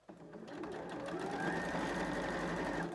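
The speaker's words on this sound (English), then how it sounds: "when we stitch this, we're going to stitch in that fold line that we've created that's 1 centimetre away from the raw edge" A sewing machine stitches a fold line along fabric in one continuous, close, even run of rapid mechanical whirring, with no talk over it.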